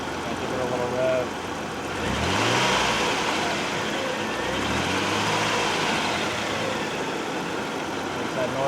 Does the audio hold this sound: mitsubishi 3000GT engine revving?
yes